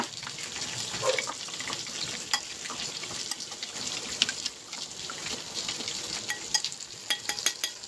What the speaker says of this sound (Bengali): দইয়ের মধ্যে সর্ষে আর পোস্ত বাটাটা দিয়ে দেবো দিয়ে ফেটিয়ে নিয়ে